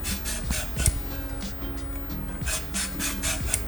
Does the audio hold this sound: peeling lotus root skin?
yes